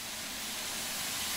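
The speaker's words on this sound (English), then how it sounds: "Open the cylinder cocks to remove any water from cylinders after it has been left standing." Steady broadband hiss of steam venting from a steam locomotive's open cylinder cocks in Train Sim World 3, continuous and even for about a second and a half with no other sounds.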